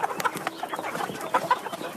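A flock of farm chickens clucks and chatters continuously at close range, with overlapping short calls and occasional higher squawks.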